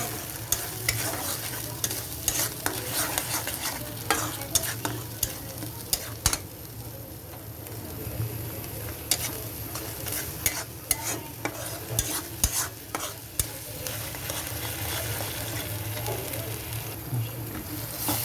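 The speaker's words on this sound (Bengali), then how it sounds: "এখন এটাও আমরা ভালোভাবে একটু কষিয়ে নিব।" Gravy for butter dal being fried and stirred in a pan, with a constant sizzle under frequent sharp spoon scrapes and clacks against the metal, close and busy throughout, no talking.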